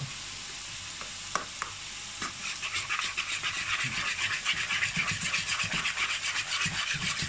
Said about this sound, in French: Là j'ai mis une grosse cuillère à soupe de parmesan et une autre grosse cuillère à soupe de parmesan. Vous mélangez bien.